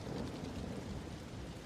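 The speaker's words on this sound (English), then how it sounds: "The rain is tapping gently on the glass of your bedroom window." Rain with thunder against a bedroom window glass, a steady unbroken wash of falling rain and low rumble, even in level from start to finish with no voices.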